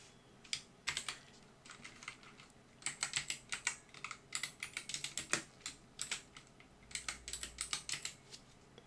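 Quick typing on a computer keyboard, a close, fairly quiet run of crisp key clicks in uneven bursts with short pauses, no talking.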